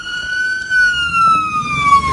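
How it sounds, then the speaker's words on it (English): Huntsville police cars with wailing sirens passing near Redstone Arsenal during a lockdown, a loud, steady siren tone that sweeps slowly downward as the vehicles go by, with faint road noise underneath. "here are a few more Huntsville police cars coming by."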